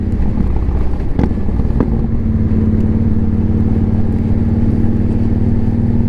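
A 2015 Victory Vegas 8-ball motorcycle engine idles steadily and close by, a low continuous rumble with a couple of brief sharp pops early on.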